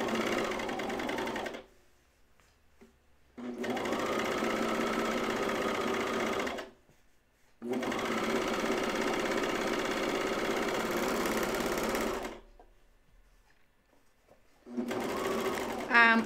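A serger runs in three long bursts of steady whirring as it stitches the curved seam of a Bleuet dress, pausing in between, loud and close.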